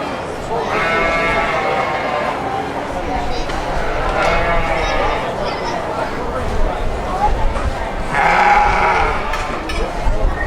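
Sheep at the Great Frederick Fair livestock show bleat loudly and repeatedly in drawn-out calls over a noisy crowd murmur and an announcer's voice.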